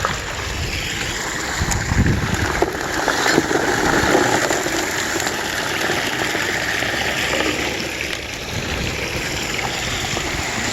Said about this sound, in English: Sluice is running really good.